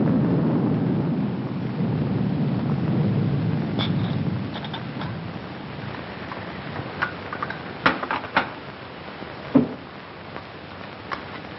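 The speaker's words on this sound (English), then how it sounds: "The rain ought to let up soon." A low rumble of thunder rolls through steady rain, fading after a few seconds and leaving the patter of rain with scattered sharp drips and knocks nearby.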